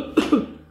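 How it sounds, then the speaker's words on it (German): Two quick throat clearings, close and fairly loud, the second slightly longer than the first, followed by quiet. "Habt ihr gewusst, dass man nicht räuspern darf,"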